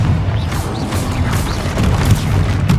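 A Confringo fire spell explodes in a Hogwarts video game: a heavy, continuous booming blast with crashing texture that stays loud and dense for nearly three seconds, with no voices.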